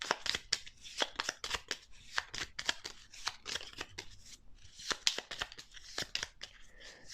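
Gloomhaven: Jaws of the Lion board game cards are shuffled by hand, a quiet close series of rapid papery riffles and snaps in an uneven rhythm, with no talking.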